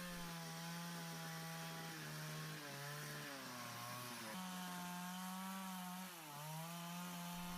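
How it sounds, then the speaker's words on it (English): A powerful chainsaw at slightly above average revs trims log ends on a log cabin, with a steady loud engine drone that dips in pitch each time the chain bites into the wood. "The trimming is performed with a sufficiently powerful chainsaw operating at slightly above average RPMs"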